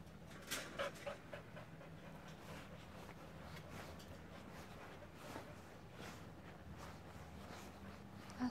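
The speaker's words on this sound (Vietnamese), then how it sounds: "Có hai con chó." Two dogs pant quietly and steadily in a rapid, continuous rhythm at an outdoor film-studio lot, with a faint whimper at one point and no talking.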